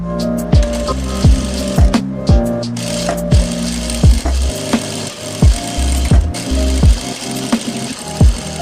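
A sewing machine stitches a salwar belt in fabric, giving a steady run of rhythmic mechanical clacks and ticks at close range, nearly one per half second, over a continuous motor hum.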